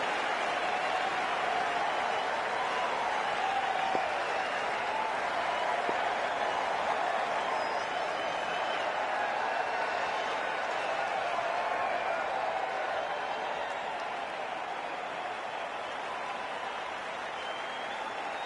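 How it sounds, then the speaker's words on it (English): Crowd applause and cheering from a stadium in the cricket video game Cricket 24, a steady broad roar of clapping that holds at an even level throughout before the first ball. "already the crowd is up and about"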